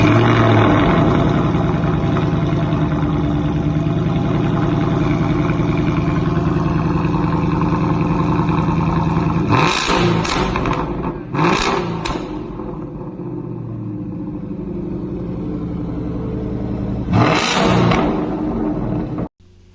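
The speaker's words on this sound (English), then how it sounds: "the sound is from a Ford Mustang GT" A Ford Mustang GT engine runs loud and close, a dense rumbling roar holding steady then easing, punctuated by a few sharp clattering blips before cutting off abruptly.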